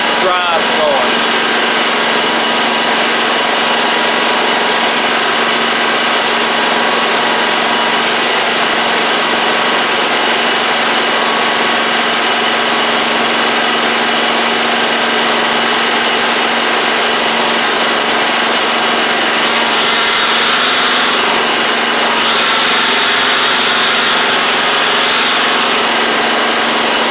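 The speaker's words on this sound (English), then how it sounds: "I'll hop on the mower just so y'all can see the drives going" A John Deere Z920M zero-turn mower engine runs steadily at close range, a loud continuous drone with a constant hum that barely changes throughout.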